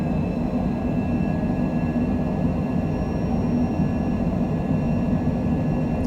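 An airplane's engines roar steadily during a takeoff roll on a hot day at Scottsdale, a constant loud broadband rumble with faint high tones, no voices.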